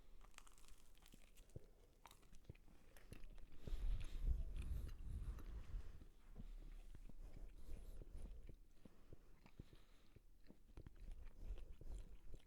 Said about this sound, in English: There's going to be a lot of chewing noises in this episode.